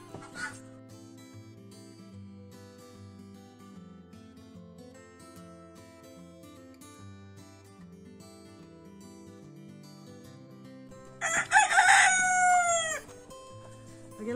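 Chickens sit in a henhouse right beside a garden compost bin. Quiet background sounds run for several seconds before a rooster lets out a loud, close crow near the end, with faint clucking around it.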